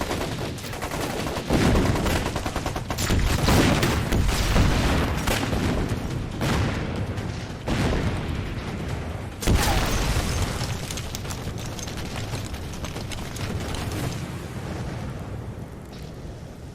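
Wartime battle effects from a film depicting a bomber attack on a Red Army position: dense, continuous gunfire and heavy explosion booms, with sharp blasts near 1.5, 7.5 and 9.5 seconds over a sustained rumble.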